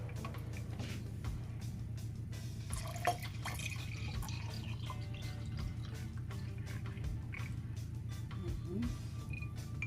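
Liquid poured and dripping into a container while preparing a home remedy drink, a continuous soft trickle with scattered drips and a low steady hum beneath.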